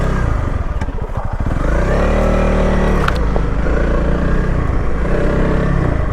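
A Honda CRF300L dual-sport motorcycle engine runs loud and close on a solo bush ride in Australia, a steady drone with a rev change and some clattering from the rough trail, no voices.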